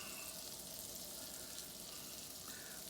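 Butter melting in a warming pan, giving a soft, steady, close sizzle with faint crackle and no talking.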